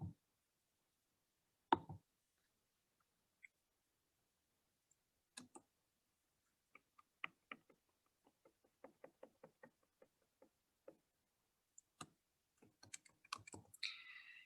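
Someone types on a computer keyboard while working in an Access or Power Apps database, with sparse, quiet key clicks spaced apart at first, then quickening into a denser run toward the end.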